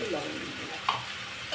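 Green chilli, ginger and garlic fry in a pan for a spicy bhola fish curry, producing a steady close sizzle with light stirring, while a voice speaks briefly over it.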